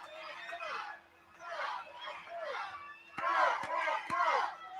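Wrestling arena crowd cheering and hollering in swelling waves for Kerry Von Erich at a 1988 match, loud and continuous, with sharp impacts near the end.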